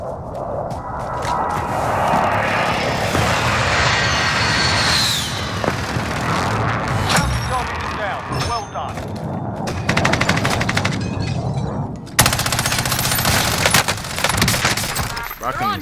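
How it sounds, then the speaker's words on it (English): A precision airstrike in Call of Duty Warzone delivers a loud, sustained roar of an aircraft flyover mixed with heavy strikes and crackling blasts, ending in a string of sharp, close impacts. "friendly precision airstrike inbound"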